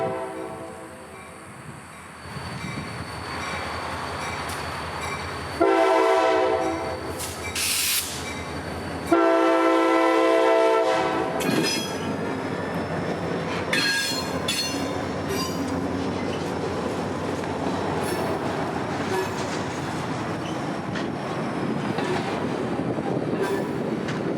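A CSX freight train rumbles past close by in Central Florida, its horn blaring in several loud blasts, with wheels squealing and clattering over the rails.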